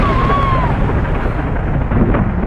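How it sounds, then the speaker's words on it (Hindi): A thunder sound effect in a horror story, a loud continuous rolling rumble that fills the whole stretch without any talk. "उसी पल बाहर तेज बिजली कड़की।"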